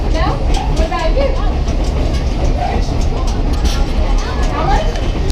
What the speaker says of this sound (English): How fast did the train go?